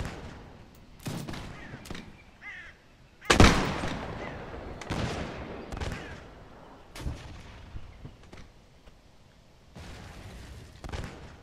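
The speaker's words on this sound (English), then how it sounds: "They're trying to blow him up with a cannon." Cannon and musket gunfire in the Mount & Blade video game, Napoleonic-era battle: a scatter of sharp shots through the clip with one loud, heavy cannon boom near the start, fading back to intermittent distant firing.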